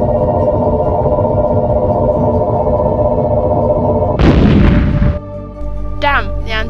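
Weapons on a warship in a space battle scene fire in one loud, short booming burst over a steady engine drone, followed by brief electronic chirps and a voice.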